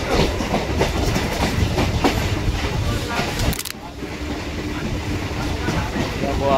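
A Kolkata Circular Rail local train running between Majherhat and Dum Dum rumbles and clatters continuously from onboard, with a brief dip midway as it rolls on; some talk is mixed in.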